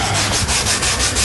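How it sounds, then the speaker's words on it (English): Steady dry rubbing of sandpaper over spot glaze filler on the steel body of a 1971 Chevrolet Camaro SS, a close, continuous scratchy hiss with slight rhythmic strokes and no voices. "we will just keep sanding here,"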